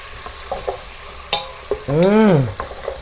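A pickle mixture sautéed in a pan gives a close frying hiss with scattered stirring scrapes and knocks, plus one short sliding squeak that rises and falls near the end.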